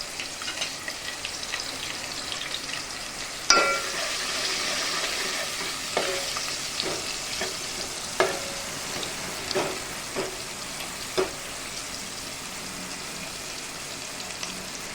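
Steady sizzling of garlic, curry leaves and spices frying in hot oil, with a sharp crackle burst early on and intermittent scraping stirs and clinks, close and continuous, no talking.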